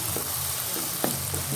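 Spinach sautéing in a pan for a Tamil keerai kadaiyal, with a steady soft sizzle and occasional stirring clinks, close by and moderately loud with faint speech-like murmurs.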